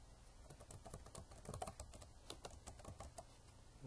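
Fast, soft clicking of keys on a computer keyboard as a username and password are entered, irregular bursts of close, quiet keystrokes alone without speech.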